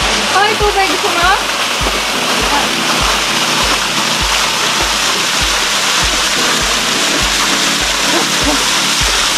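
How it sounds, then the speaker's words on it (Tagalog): Atot Falls on the Labi River in Bongabon, Nueva Ecija, roars as a loud, steady rush of falling water, with a regular low thumping running beneath it. "ayan yung isang falls"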